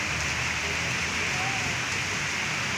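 Rain falls steadily on a road in town, a dense even hiss of drops on the surface that fills the short stretch without pause, fairly near and unbroken.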